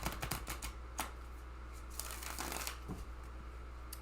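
Tarot cards are shuffled by hand in a dense run of soft, muffled riffling and tapping for about four seconds, close by and steady, with a low hum underneath and no talk.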